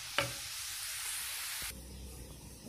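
Food for an aubergine and minced meat pie sizzles in a hot pan, a steady bright hiss that suddenly drops away, leaving quieter clatter and low background noise.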